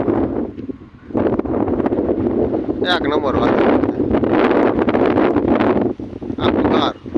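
Strong wind gusts over farm fields prepared for sowing, roaring and buffeting the microphone continuously while someone talks over it, dipping briefly near the end.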